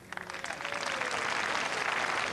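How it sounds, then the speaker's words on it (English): Tennis crowd at a Henman–Tieleman match applauding an umpire's announcement, starting with a few scattered claps that quickly swell into a steady, fairly distant wash of clapping. "The applause wasn't for the shot, it was for the umpire's announcement asking people to turn off their mobile phones."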